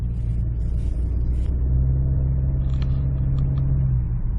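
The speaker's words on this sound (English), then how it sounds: "I pushed down on the accelerator at 20 miles an hour and it just kind of flopped on its face and then took off." A 2019 Honda Accord's engine rumbles low and steady from inside the cabin, its drone rising slightly toward the end as the car picks up speed after a hesitant start.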